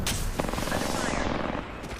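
Rapid bursts of automatic gunfire rattle in a shooter game, a dense, steady clatter that fades toward the end, with speech mixed in.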